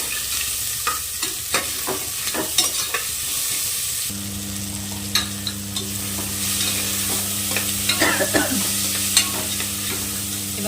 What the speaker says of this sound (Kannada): ಇದಕ್ಕೆ ನಾನು ಸ್ವಲ್ಪ ಉಪ್ಪನ್ನ ಹಾಕ್ಕೊಳ್ತೀನಿ ಸ್ವಲ್ಪ ಹಾಕೊಳ್ತೀನಿ ಇದು ನೀಟಾಗಿ ಫ್ರೈ ಆಗಲಿ